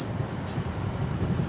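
A metro train in Saigon rumbles past with a high wheel squeal ringing over it, a steady close rolling roar with no talk.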